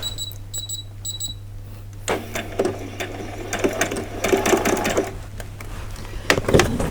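A sewing machine runs a back stitch along vet scrubs, a steady close mechanical whir with quick rhythmic needle ticks and a low motor hum throughout, with a few sharp clicks near the end.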